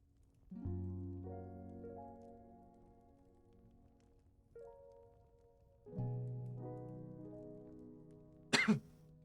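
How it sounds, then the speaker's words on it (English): A single short, muffled cough bursts out near the end, heard over layered tonal synth notes during a play session of the game Beastro. "I tried to block the cough, it didn't work"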